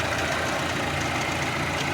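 A Chevrolet Optra engine idles steadily after its fuel pump was replaced, a smooth, even, continuous hum with a low rumble, close and loud, with no voices over it.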